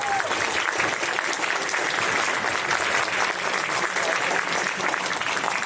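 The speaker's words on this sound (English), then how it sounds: "So round of applause for all you lovely exhibitors out there." Steady applause from a large audience at the GDEX 2025 game expo, many hands clapping continuously at an even level throughout.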